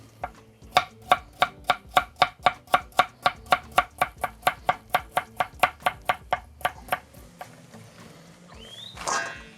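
Carrots are sliced into half-rings with a knife on a cutting board. About two dozen crisp, evenly spaced chops sound close and clear, then a pause and some faint handling noise.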